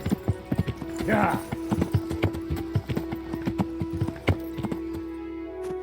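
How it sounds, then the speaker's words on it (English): Horse hooves clip-clop in Kingdom Come Deliverance, an even, close rhythmic trot with a brief whinny early on, while someone speaks a word over it. "Horse."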